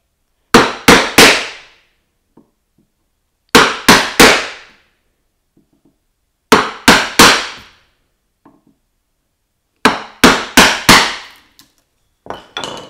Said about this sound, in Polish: praca z pobijakiem nie wymaga aż tak ostrych sprzętów, więc tutaj myślę, że śmiało możemy dłutować